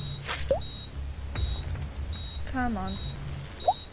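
In the Bio Inc. Redemption video game, a thin electronic alert tone beeps repeatedly at an even pace under a player's speech, with a few other synthetic game sounds scattered between the beeps.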